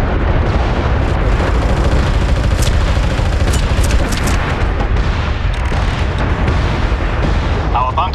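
An artillery fire mission pounds the map in the video game MAG, a dense, unbroken roar of overlapping explosions and booms that stays loud throughout, with a voice faintly mixed in.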